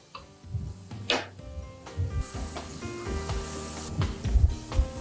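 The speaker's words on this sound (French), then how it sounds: "Je vais laisser ma viande mijoter" Meat simmering in a pan for an Algerian dish, a steady close sizzle and crackle that carries through with occasional stirring clinks and no voices.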